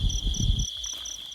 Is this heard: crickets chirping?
yes